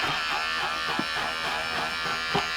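An electric shaver buzzes steadily and close while shaving fur on a Halloween rat prop, a continuous droning hum with small bumps as it moves over the surface.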